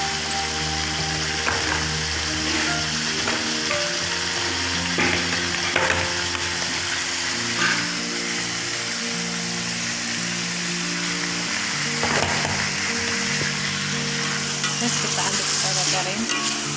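Tomatoes and peanuts frying and being stirred in a pan, a steady close sizzle throughout with scraping and clinks from the spatula, and no voices.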